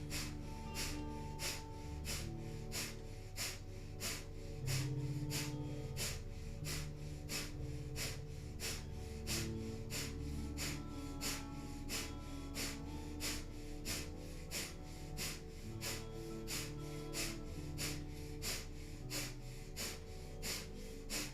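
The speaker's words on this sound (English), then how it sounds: "either in breath of fire or long deep breathing" Breath of fire in a Kundalini yoga session: rapid, evenly spaced forceful nasal exhalations pulse steadily for about twenty seconds over soft, sustained background music.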